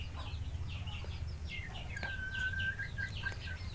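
A Pelung hen that has just laid an egg clucks in short, faint, repeated calls over a low background hum, with some brief chirps scattered around.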